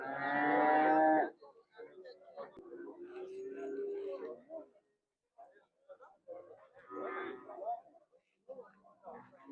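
Cattle at a livestock market in Kars low out in long, loud moos, one strong call at the start and more later, with traders talking in between over the market bustle.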